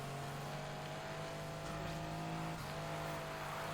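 Car in the racing video game Need for Speed Heat sliding into a skid, a steady engine drone with a tire-squeal edge that wavers briefly near the end, sounding close and continuous with no voices.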